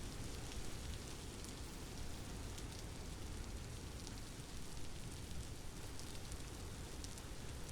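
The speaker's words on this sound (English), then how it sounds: "I think it's just the rain" Steady rain in the video game Vintage Story, a soft continuous hiss of falling drops with no breaks, faint and even throughout, no voices.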